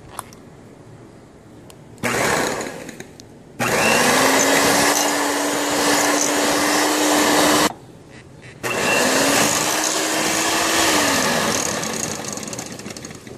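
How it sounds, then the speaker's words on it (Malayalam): An electric beater creams butter with powdered sugar in a bowl, running in three motor bursts of rising length with a steady whining hum, separated by short pauses. "ഇനി ഇത് നന്നായി ഒന്ന് ബീറ്റ് ചെയ്യാം."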